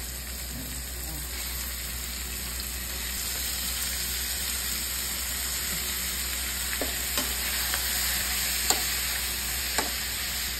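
Shrimp sauté with tomato and green chili in a hot pan, giving a steady, loud, even sizzle throughout with a few faint utensil ticks toward the end.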